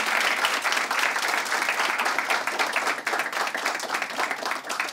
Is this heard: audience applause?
yes